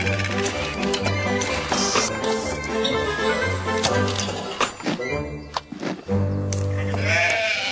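Lambs on a sheep farm bleat repeatedly and close by, several overlapping high wavering calls over a busy background of knocks and thuds, with a short lull before the bleating resumes.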